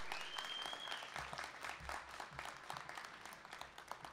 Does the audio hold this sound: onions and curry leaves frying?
no